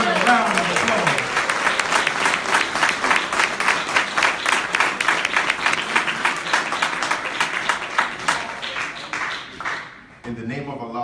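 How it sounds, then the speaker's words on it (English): Audience applause for a minister at a Saviours' Day student ministry class in a mosque, a dense roar of clapping hands that holds steady for about ten seconds before fading out, with a voice starting to speak at the very end. "Let's bring up to the roster my dear brother, Brother Minister David Muhammad, with a round of applause."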